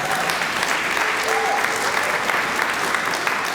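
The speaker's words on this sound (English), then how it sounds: "You could clap for that" Crowd at a museum park groundbreaking ceremony claps steadily, a full, even burst of applause from many people held at constant loudness, with faint voices and a brief whistle-like tone inside it.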